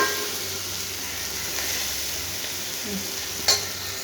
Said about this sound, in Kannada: ನೋಡಿ, ಆಯ್ತು, ಇದು ಒಗ್ಗರಣೆ ರೆಡಿ ಆಯಿತು.